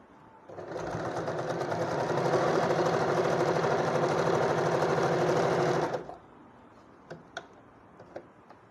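A sewing machine runs steadily for about five seconds, stitching a seam in fabric, with a dense rapid needle rhythm that starts and stops abruptly, followed by a few faint clicks.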